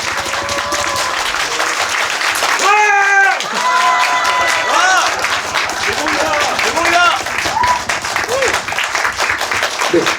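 A packed cinema audience applauds at a release-day stage greeting for the Korean film 'A 10,000th of a Second' (만분의 일초), with sustained, loud clapping for about ten seconds and a voice talking over it partway through.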